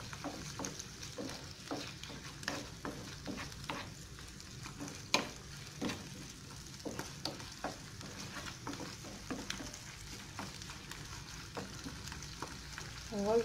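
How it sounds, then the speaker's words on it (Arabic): Shrimp frying in a pan over raised heat, a steady close sizzle broken by repeated stirring scrapes and taps of a utensil throughout. "دابا غنزيدو في النار شويه باش ما يطلقش الماء في القمرون بزاف"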